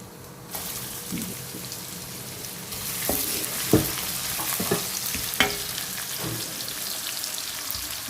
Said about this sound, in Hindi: अब इसको ब्राउन तक भूनते हैं